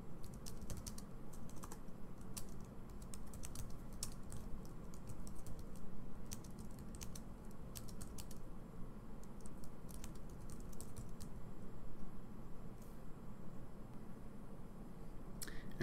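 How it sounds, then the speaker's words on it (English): Quiet, steady typing on a computer keyboard, a run of soft irregular key clicks over faint background hiss, with no talking. "So I'm going to type some text in here."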